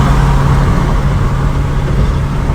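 An LS-swapped 1968 Chevrolet Camaro driving around San Diego, its engine a loud, steady low rumble blended with road noise, close and continuous throughout.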